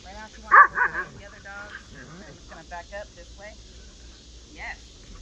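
Dogs at a beginner training class yip and bark in a short burst near the start, with a few quieter whimpers and a later yelp, while a trainer talks over the scene.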